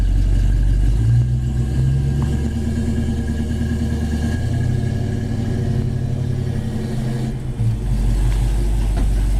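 A 1982 Ford Mustang GT rolls in reverse, its engine giving a steady, close, loud low rumble with slight changes in revving throughout and no talking.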